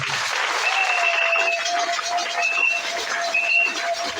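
A church congregation applauding during a Sunday service, dense sustained clapping from many hands filling the space at steady loudness, with a faint tonal whine running underneath.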